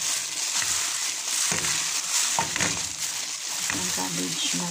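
Cabbage is squeezed and kneaded by hand with salt for coleslaw, making a close, wet, crunching and squishing sound in rhythmic bursts over a soft background hiss.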